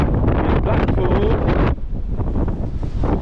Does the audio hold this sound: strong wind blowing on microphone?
yes